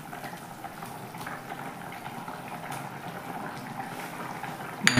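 A radish and shol fish curry bubbles steadily in a pot, a continuous soft simmering hiss with a brief louder clatter at the very end.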